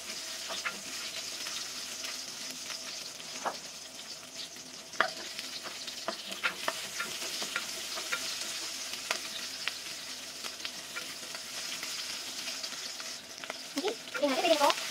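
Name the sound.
onions sautéing in hot cooking oil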